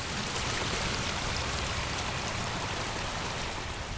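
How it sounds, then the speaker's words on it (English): A constructed garden pond stream in New Jersey tumbles down a hillside over large stone boulders, a steady, close, rushing wash of water with no pauses. "just a beautiful water course flowing down a hill"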